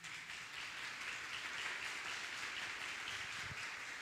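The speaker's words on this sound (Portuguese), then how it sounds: "Você pode aplaudir o Senhor por isso." A church congregation applauds during a service, a faint, steady wash of many hands clapping heard from a distance for the whole stretch.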